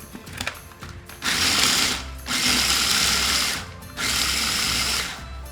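Food processor pulsing nuts and spices for Egyptian dukkah: three loud whirring bursts of about a second each, separated by short pauses, with faint rattling between them.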